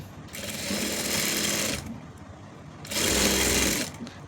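A sewing machine stitches a simple frock in two sustained runs of rapid whirring, about one and a half seconds each, close and steady, separated by a short pause.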